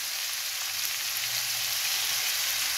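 Bell peppers and onions fry in a pan for shawarma sandwiches, giving a steady, even sizzle at close range with a faint stir or two and no talking.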